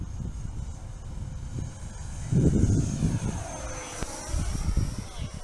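FlyFans 64mm L-39 RC jet with electric ducted fan flying past, a steady whooshing whine that swells and fades as the model passes, with wind noise and someone talking over it.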